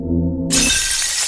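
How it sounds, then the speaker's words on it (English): A sustained low tone cuts off into a loud, bright crash of shattering glass that rings and hisses on to the end. "Then everything shatters."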